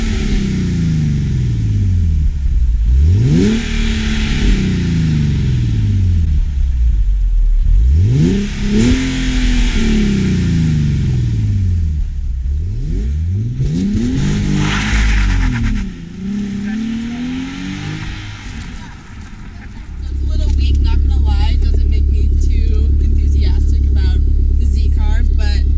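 A 2015 Nissan 370Z NISMO with an Invidia Gemini exhaust revs repeatedly, each loud, growly climb falling back before settling into a steady, deep idle rumble. The engine is close by.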